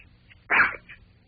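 A small Maltese dog barks once through a phone line, a single sharp, thin yap rising out of low line noise, with a faint start of another sound at the very end.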